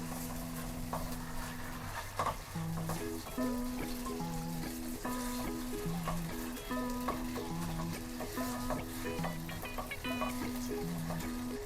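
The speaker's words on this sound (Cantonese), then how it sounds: "開中火落油，爆香半嚿嘅南乳" Half a piece of fermented red bean curd is fried in oil over medium heat for a vegetarian dish. A steady crackling sizzle, stirred now and then, runs under background music throughout.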